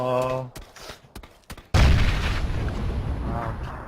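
Bursts of PUBG gunfire erupt, sharp rapid shots and booms following a few softer pops, loud and close.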